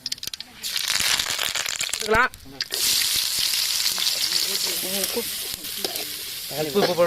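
Curry leaves hit hot oil with a sudden loud sizzle and crackle, with stirring and a voice talking over the frying.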